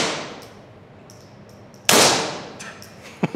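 A single loud, sharp gunshot strikes an indoor range target, apparently from a Barrett .50 BMG rifle, with a bright ringing impact and a decaying tail. A couple of faint metallic clinks and a smaller knock follow, with no talking.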